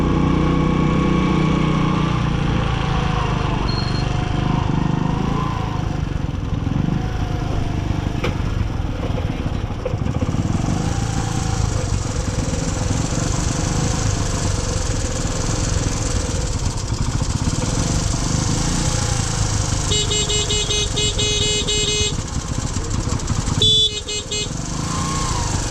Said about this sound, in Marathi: लय गर्दी दिसते इथं, कारण गाड्यांची लाईन लागली. बस पण मागं लागलेत, लाईनची लाईन.